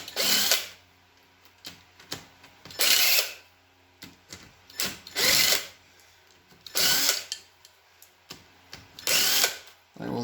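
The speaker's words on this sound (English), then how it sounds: "we'll also get a little experience on drilling the bolt out" A power drill works a stuck bolt out of a C5 Corvette differential in repeated short bursts of whirring, with quiet gaps between each run, close and clear.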